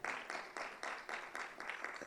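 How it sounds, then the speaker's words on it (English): An audience claps at a legal association election debate event in Kenya, a quiet and steady rhythmic clapping of roughly four beats per second, distant and continuous with no talk over it. "Again, we clap until she gets here."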